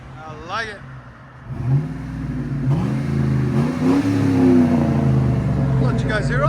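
A Chevy Tahoe 5.3-liter V8 with a Carven R-Series exhaust climbs from a quieter idle into a loud, sustained, deep-toned rev and holds it, heard up close, with brief speech at the start and end.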